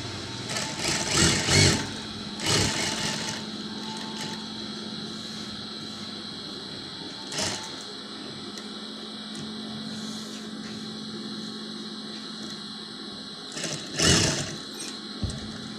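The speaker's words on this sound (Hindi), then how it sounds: "इधर आपने एक पैर के दबाव जितनी सिलाई लगा लेनी है" A sewing machine stitching a zip onto fabric, running in short bursts with steady mechanical whirring and pauses, heard close with no talking.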